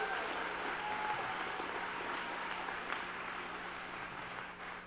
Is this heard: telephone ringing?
no